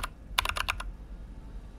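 A quick burst of keyboard typing, about half a dozen rapid clicky keystrokes, then only a low background hum remains.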